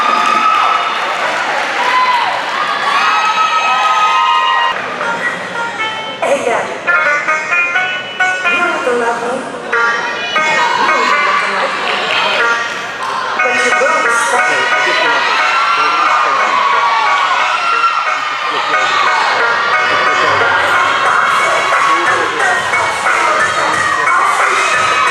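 A college spirit squad cheer and dance showcase draws a loud crowd of cheering, shouting and whooping fans in bursts, with voices talking over the roar and brief applause throughout.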